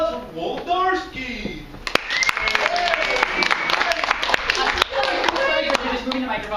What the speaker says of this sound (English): And how about a round of applause for Woldarski?